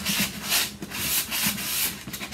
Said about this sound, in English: these corners on the sanding sponge are good for getting